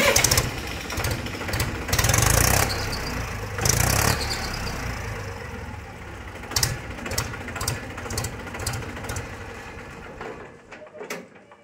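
A used tractor with 4,326 hours on the meter runs while being driven. Loud engine bursts come first, then a steadier chugging idle with rhythmic ticking, and someone speaks over it.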